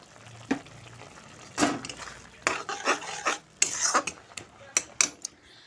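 Rice flour is stirred into a cooking pot with a run of irregular metallic scrapes and clinks of a spoon against the pot over a soft background sizzle.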